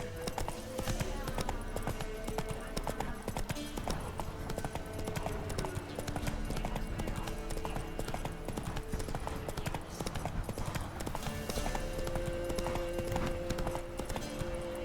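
Steady clip-clop of the horse Roach trotting in The Witcher 3, hooves beating continuously and fairly loud over a dense bed of game music and ambience, with a brief whinny-like sound amid it.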